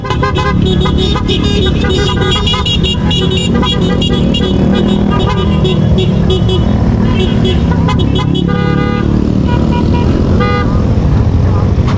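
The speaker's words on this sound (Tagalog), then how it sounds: "Ang mga makina, nag-iingay" Several Yamaha NMAX motorcycle engines roar along the road to General Nakar, Quezon, loud and close, with a car horn tooting in bursts over the traffic.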